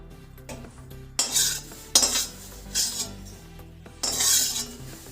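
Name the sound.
transferring cooked bathua stuffing into a utensil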